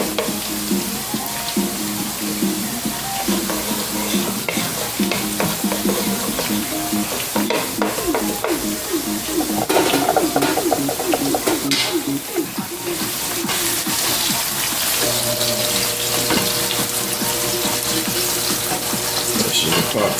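Shrimp stir-frying in a pot for Jamaican curry shrimp, a steady sizzle and frying hiss with stirring scrapes running throughout, moderately loud and close, with brief faint tonal kitchen sounds in the background.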